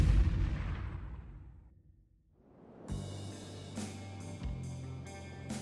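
Shotguns fire during a duck and goose hunt, a loud blast fading away, then a rapid volley of several overlapping shots from multiple hunters close by, with no talk.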